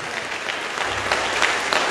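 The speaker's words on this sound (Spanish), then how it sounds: "Fuerte tus aplausos para el Rey." A church audience claps loudly and continuously, the dense applause holding steady from start to finish with a few sharper claps standing out.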